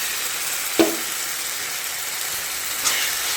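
Ginger, garlic and green chilli fry steadily in a pan with a constant close hiss, broken by two brief clanks of stirring, one early and one near the end.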